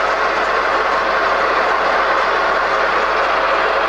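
A used Kwangchow C6246 metal lathe runs with its lead screw feed engaged, producing a loud, dense, continuous mechanical roar that stays even throughout, close by and without talk.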